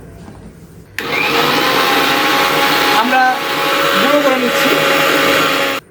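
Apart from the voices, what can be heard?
grinder grinding roasted rice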